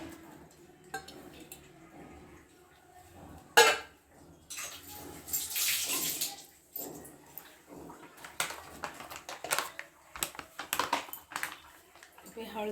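Chuna fish rinsed in water inside a metal pot, with sloshing, splashing and clinks against the vessel, close and uneven, including a burst of running or pouring water; a voice speaks at times.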